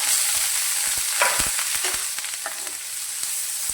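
Two chopped onions and a green chili frying in a pan over a low gas flame, a steady close sizzle broken by scattered scraping taps of stirring, with no voices.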